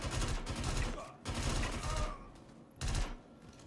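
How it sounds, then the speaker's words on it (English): Sustained bursts of automatic gunfire in the Star Citizen video game, three loud rapid volleys separated by brief pauses, with faint voice chat underneath. "What the fuck is he shooting me with?"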